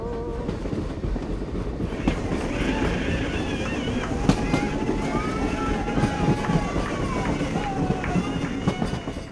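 An Ooty mountain railway train runs along with a steady rumble and rattling clatter of the carriages, squeals and metallic scrapes rising over it, continuous and close throughout.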